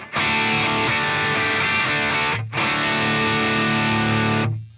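A loud, sustained electric guitar chord through a Headrush Black Op distortion pedal rings out, cuts briefly, then sounds again and fades out.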